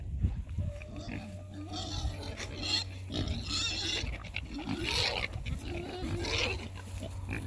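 Pigs rooting and digging around old hay bales in a field, with steady snuffling and low grunts close by, plus scattered rustling throughout.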